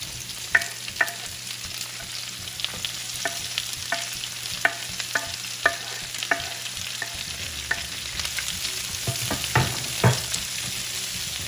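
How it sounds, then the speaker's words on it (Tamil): Onions sautéing with a little salt in a pan for a shallot tomato chutney, a steady soft sizzle with repeated sharp taps and scrapes of a stirring spoon against the pan, close and without voices. "வெங்காயத்தில் லேசாக உப்பு போட்டு வதக்கிக்கோங்க."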